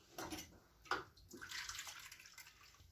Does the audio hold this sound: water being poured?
yes